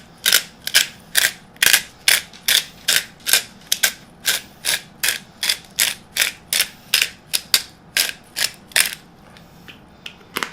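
A pepper mill grinds pepper into a beef bourguignon stew, with about two dozen crisp ratcheting cranks in a steady even rhythm, close and clear with no talk.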